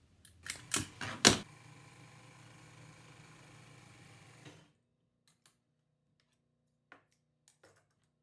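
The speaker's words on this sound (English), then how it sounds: "So now I'm going to sew all 3 pieces together, making sure that the shorter piece is in the middle." A sewing machine stitches bed skirt fabric pieces together for a kick pleat bed skirt, with a few loud close clunks followed by several seconds of steady, moderate mechanical whirring that cuts off, then faint scattered clicks.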